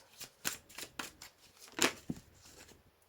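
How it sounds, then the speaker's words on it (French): A tarot card pulled and slid from a deck, several quick crisp papery flicks and rustles close up, with one louder snap near the middle and no talking. "je vais aller prendre une carte"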